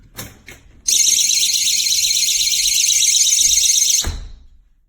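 A GE personal security window and door alarm blares a loud, steady high-pitched siren for about three seconds, preceded by a couple of short clicks and ending abruptly.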